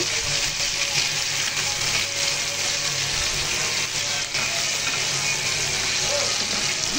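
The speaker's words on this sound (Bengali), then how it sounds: "এই তো যেখানে ইলিশ মাছ ভেজে নিচ্ছি।" Hilsa fish fry in a pan for a home meal on a rainy day, making a strong, constant close sizzle with occasional stirring scrapes, unbroken from start to end, with no talking.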